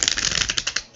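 A deck of tarot cards is shuffled in a quick riffle, the rapid flutter of cards snapping against each other, close and crisp, then settling at the end.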